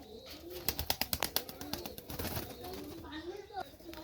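A pigeon coos softly under ongoing talk, with a quick run of sharp rhythmic pulses, likely wing flaps, near the start.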